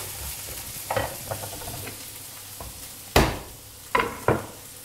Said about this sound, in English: Just give that a stir every now and then.